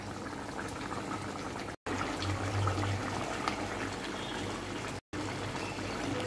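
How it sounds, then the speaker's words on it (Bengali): Rui fish curry with potatoes boiling in a pot, a continuous close bubbling and gurgling of liquid, steady and moderately loud, briefly cut twice, with no talk. "বলক চলে এসেছে।"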